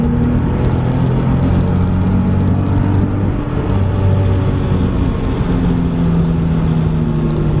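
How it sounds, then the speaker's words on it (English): A Nissan 370Z convertible's engine drones loudly and steadily, its deep harmonic growl swelling slightly as it revs and accelerates, with no talking over it. "Once you rev this thing out though, it is fast."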